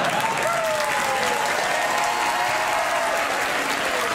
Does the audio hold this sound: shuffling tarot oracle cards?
no